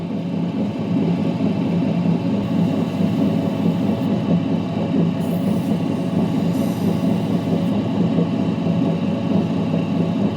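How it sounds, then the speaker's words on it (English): A 600-grit grinding wheel cutting boulder opal, giving a steady, loud, continuous whirring grind close up with no talk. "On the 600 wheel here. There's a bit of boulder opal from last week."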